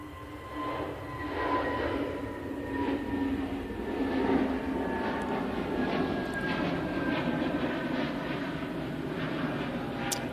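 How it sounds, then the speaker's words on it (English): An easyJet jet in Neo livery spools up for departure to Belfast at Manchester Airport, its engines giving a steady moderate roar with thin whining tones, heard from some distance without speech. "Yeah, that's spooling up now, and they're going off to Belfast"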